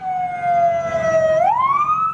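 A police car siren blares loudly and close at the scene of the Toronto van attack, its wail sliding down and then sweeping back up in pitch within a couple of seconds.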